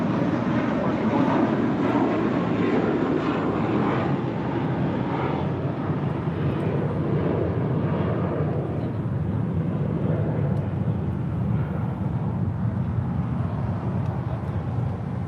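An Aeromexico heavy jet roars on takeoff from runway 25 right at Los Angeles International Airport, a loud, steady broadband engine rumble that slowly fades as it climbs away; no voices.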